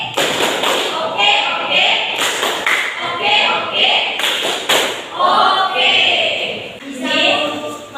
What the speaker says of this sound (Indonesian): Kita kasih tepuk oke Iqbal ya